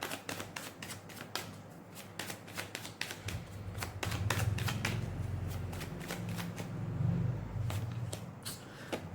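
Oracle cards are shuffled by hand for a tarot reading, giving a run of sharp, rapid riffling flicks and soft card rustles close up, with no talking.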